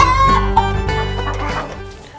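Chickens on a farm, about fifty hens sharing a coop with nesting boxes, cluck and squawk loudly close by, one drawn-out call overlapping several quicker clucks that fade over about two seconds.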